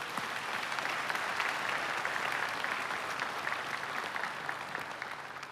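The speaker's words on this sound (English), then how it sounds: "big round of applause for everybody." Steady applause from a graduation audience at a Florida Highway Patrol ceremony, a broad, even wash of many hands clapping at a moderate distance and holding level throughout.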